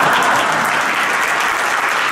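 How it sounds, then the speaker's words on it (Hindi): Applause from an audience at a Bhagwat Katha religious discourse, a dense, steady burst of many hands clapping close up that fills the whole stretch with no pause. "अब सबके लिए ताली बजा दी, अब थोड़ा बहुत आनंद आया हो तो मेरे लिए भी बजा दो।"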